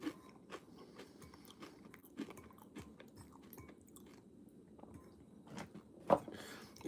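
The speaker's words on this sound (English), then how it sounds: "they had an awesome crunch" Funyuns onion-ring snacks are crunched and chewed up close, soft repeated bites with a louder crunch near the end, no talk.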